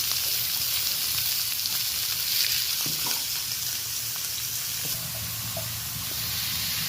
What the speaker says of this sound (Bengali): পেঁপে, আলু, বেগুন একসাথে তুলে দিয়েছি, একটু ভাজা ভাজা করে নেব